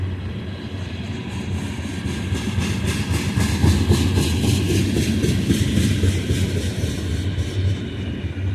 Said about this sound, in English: Long oil train.